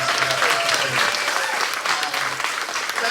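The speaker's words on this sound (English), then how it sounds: "Can we give our students a big round of applause for being able to stand here?" An audience claps steadily and densely for students at an event, the applause continuous and close with a voice faintly audible beneath.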